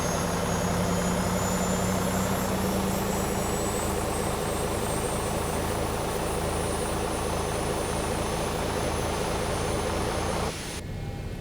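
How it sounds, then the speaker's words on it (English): A Boeing 737-800 jet engine starts up in the X-Plane 11 flight simulator, a loud steady whine and roar with a rising tone early on, continuous throughout before a sudden cut near the end. "So engine 1 has started."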